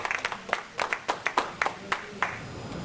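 A church congregation gives a short round of applause during a Sunday service, heard as distinct, fairly quiet clap bursts in an uneven rhythm that thin out toward the end.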